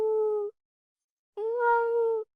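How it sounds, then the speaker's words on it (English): A house cat meows twice, close and clear: a long steady call, a pause of nearly a second, then a second, slightly longer meow with no talking around it. "I have a cat guest on my show who is literally interacting with me in between the interview"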